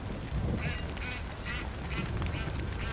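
Birds in the video game Far Cry 5 quack and honk like ducks in a repeated series of calls over a rumbling outdoor game backdrop, fairly close and clear.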